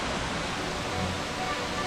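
The Glandieu waterfall, a 60-metre cascade on the Gland, gives a constant broadband roar of falling water that is steady and fairly loud throughout, with no other sounds standing out.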